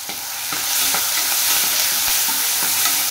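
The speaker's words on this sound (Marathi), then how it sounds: "तेल गरम छान झालेलं आहे. त्यात टाकूया जिरी मोहरी आणि वरून बारीक करून घेतलेलं टोमॅटो" Cumin seeds, mustard seeds and finely chopped tomato with curry leaves crackle and sizzle in hot oil in a home kitchen, a steady loud frying hiss throughout with faint scraping of stirring, no voices.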